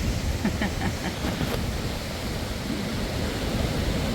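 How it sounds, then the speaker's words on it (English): A waterfall on the Pacific Crest Trail near Stevens Pass roars as a constant broadband rush, steady and fairly loud, with no voices over it. "Pretty cool waterfall up there."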